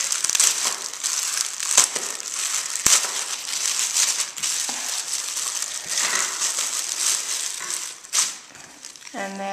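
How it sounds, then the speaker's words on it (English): Plain cellophane packaging is unwrapped up close, giving loud, continuous crinkling and crackling with a few sharp snaps along the way. "Then you can see that it's really just kind of wrapped in plain cellophane."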